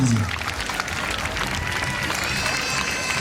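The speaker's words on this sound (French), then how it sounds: "on peut l'applaudir" Audience applause at an evening pageant crowning Miss Saint-Laurent 2012, honoring the second runner-up, steady crowd clapping and cheering filling the hall with a brief voice at the start.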